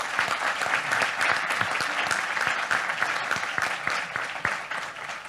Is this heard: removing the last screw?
no